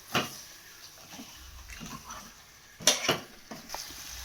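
A spoon stirs chicken gravy in a cooking pot, with spice paste, yogurt, salt, chili and ginger paste; scattered scraping clinks against the metal, a few sharper knocks, over a low background hiss.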